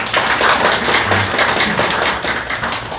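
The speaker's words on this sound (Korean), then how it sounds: "모두 다 반갑다는 인사로 박수 한번 치고 시작을 할 수 있도록 하겠습니다" A roomful of people at a labor union meeting with a Seoul mayoral candidate claps together in greeting, a dense, even patter of many hands sustained at close range for a few seconds.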